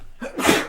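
A single sharp sneeze, close and fairly loud, with a short intake of breath before the burst.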